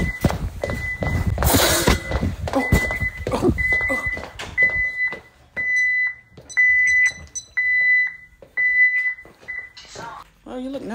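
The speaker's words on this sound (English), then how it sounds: "Oh, the alarm about to go off." Alarm beeping indoors in a series of short electronic tones that repeat in bursts, loud and close, with knocking and movement at first, then the beeps continuing alone with a brief voice near the end.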